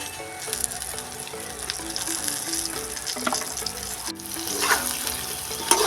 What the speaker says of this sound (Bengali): কড়ার মধ্যে আমি তেলের মধ্যে দিয়ে দিচ্ছি ভেন্ডিগুলো ভালো করে তেলেতে এগুলোকে ভেজে নিতে হবে